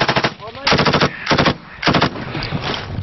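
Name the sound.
machine gun fire during battle in Helmand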